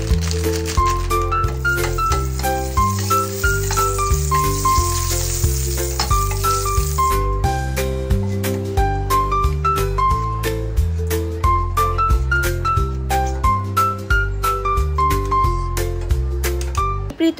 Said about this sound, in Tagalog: Prito ko muna saglit yung atay.